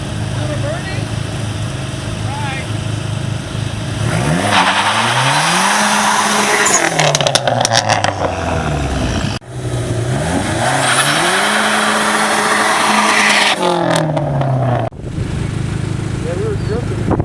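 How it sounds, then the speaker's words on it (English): Car drifting on a street, with loud engine revving rising and falling in two long sweeping bursts alongside screeching tire noise; people talk and shout over it. "Yeah, we were drifting and rolling by."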